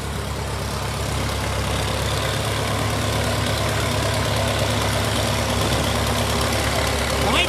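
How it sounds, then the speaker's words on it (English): An old 1953 Ford Golden Jubilee tractor idles in a parade, its engine giving a steady, loud, continuous rumble that stays even throughout with no break. "Golden Jubilee 1953 Ford, representing George Peterson of Birdville here in Columbus County."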